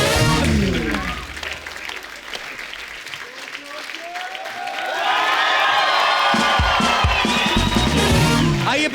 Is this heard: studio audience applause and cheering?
yes